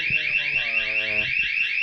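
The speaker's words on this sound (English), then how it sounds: "Naomi, hit the alarm" A sound-effect alarm rings out in rapid repeating electronic pulses, loud and shrill, a steady warbling beep pattern over faint low background noise.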